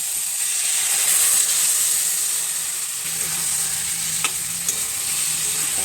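Goat meat coated in spices fries in a pan with a loud, steady sizzle and hiss, while occasional scraping clicks of stirring are heard close by and no one talks.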